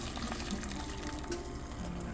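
Liquid pouring into a cooking pot over boiling water among peppers, carrots, tomatoes and scallions, a steady close gush of streaming water lasting the whole moment, with no speech.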